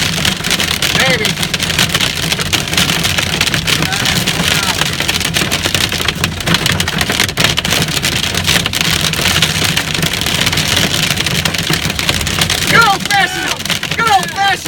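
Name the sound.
hailstorm, hail falling on road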